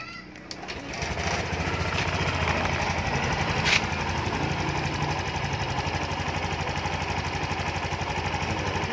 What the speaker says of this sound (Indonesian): Oke, kita hidupkan mesin.